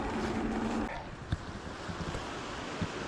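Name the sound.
wind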